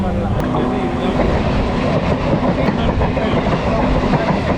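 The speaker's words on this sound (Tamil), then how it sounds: "இப்போ ட்ரெயின் வந்து பார்க்கலாம் ரயில்வே ஸ்டேஷனுக்குள்ளே என்ட்ரி ஆகுது" A local suburban train pulling into a railway station, with a steady loud rumble and rattling wheel noise filling the whole stretch, continuous and close.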